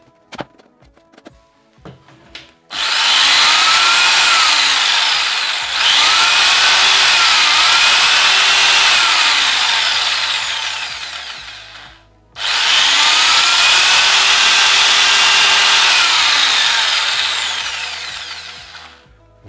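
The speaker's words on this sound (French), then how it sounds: "Si je prends cette scie sauteuse" A handheld electric jigsaw runs loudly in two long bursts with a short stop between them, its motor whine and blade rattle close and steady, with no talking.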